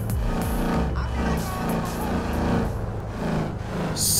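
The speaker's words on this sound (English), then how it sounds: "Listen to that exhaust." A Ford Mustang in GTA 5 rumbles with a low, steady exhaust drone that swells and eases while driving, loud and close throughout the short stretch.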